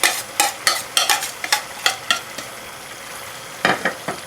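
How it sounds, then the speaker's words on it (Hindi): Keema stir-fried with green coriander and green chillies for an aloo keema, rhythmic bursts of spatula scraping over a steady sizzle, pausing briefly before resuming strongly. "ये ऐड करने के बाद आप इसे थोड़ा सा भून लेंगे और यहीं पर हम हरा धनिया और चंद हरी मिर्चें ऐड कर लेंगे"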